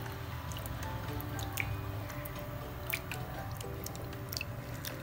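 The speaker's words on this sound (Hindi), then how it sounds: "अभी इसे मैं दूसरी बार धो रही हूँ, फिर से मैं वैसे ही करूँगी।" Water drips and squishes as sabudana (sago pearls) is rinsed by hand in a home kitchen, a faint, close, irregular patter of wet drops and soft squelches with no talking.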